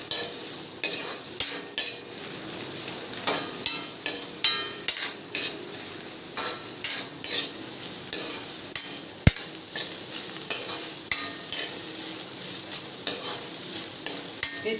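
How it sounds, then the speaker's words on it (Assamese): Onions stir-fry in a dry wok, with a spatula scraping and tapping the metal in a regular rhythm over a constant sizzle. One sharp clank stands out partway through, and no one talks. "পিঁয়াজখিনি মই অকণমান শুকান কেৰাহীটোতে ভাজি লৈছোঁ।"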